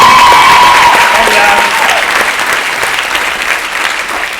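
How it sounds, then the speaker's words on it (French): A crowd at a French-language comedy show applauds the comedians, loud close clapping that starts strong and slowly eases over four seconds, with some crowd noise mixed in. "Est-ce qu'on peut applaudir tous les humoristes qui sont passés avant moi,"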